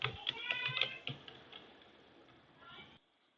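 A password is typed on a computer keyboard as a quick, faint run of light key clicks that thins out and stops, with near silence at the end.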